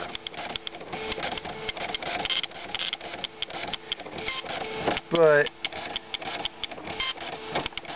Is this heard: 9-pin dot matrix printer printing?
yes